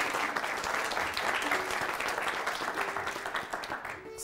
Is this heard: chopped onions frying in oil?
no